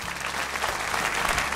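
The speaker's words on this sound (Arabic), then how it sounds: "صفقوا لي زهراء" A children's audience applauds on a kids' television program, steady clapping filling the whole stretch at moderate loudness with no talking over it.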